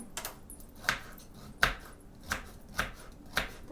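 A knife chops boiled carrots on a board for baby food puree, five sharp, evenly spaced chops heard up close in a quiet kitchen.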